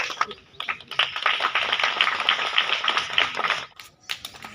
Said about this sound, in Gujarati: સૌ તાળીઓથી બતાવી લઈએ વેલકમ મેમ